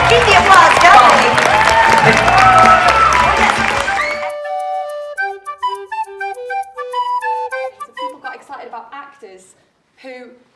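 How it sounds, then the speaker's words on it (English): A comic con crowd applauds and cheers for the Sabrina the Teenage Witch reunion guests Jenny Green, Beth Broderick and Melissa Joan Hart. The loud clapping lasts about four seconds and then cuts off into a bright, tinkling musical passage. "Keep the applause going."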